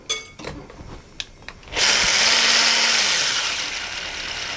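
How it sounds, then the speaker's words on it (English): An immersion blender with a whisk attachment whirs loudly and steadily through raspberry mousse after a few light knocks, the close motor hum holding continuously to the end. "I'm going to use the whisk on my immersion blender for this"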